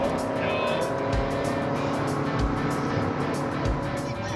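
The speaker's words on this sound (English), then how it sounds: "Headed to rehab, Desi drives fast." Car driven at high speed on a highway, about 150, with a steady loud engine and road roar throughout, occasional low thumps, and people talking over it.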